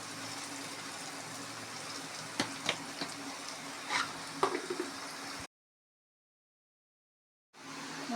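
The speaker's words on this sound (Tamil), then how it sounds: "வாழைக்காய் வந்து பாதி ஃப்ரை ஆகிடுச்சு." Plantain pieces fry in a pan with a soft, steady sizzle and a few faint pops and crackles, then the sound drops out completely for about two seconds before the sizzling returns.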